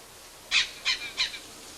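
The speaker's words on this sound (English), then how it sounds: "On the flag of Dominica proudly flutters the imperial parrot" Imperial parrot, the Sisserou and national bird of Dominica, giving three harsh squawking calls in quick succession, fairly close and clear against a quiet background.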